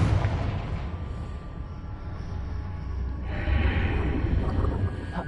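A Confringo spell blast in Hogwarts Legacy, a deep rumbling explosion that swells with a hissing burst midway and lingers as a loud roar.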